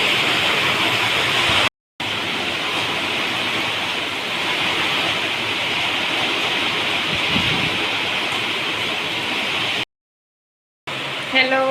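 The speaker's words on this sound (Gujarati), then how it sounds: "બહુ વરસાદ આવે છે." Heavy rain falls steadily during a monsoon downpour in Gujarat, a dense, loud hiss running almost unbroken through the clip apart from two brief dropouts.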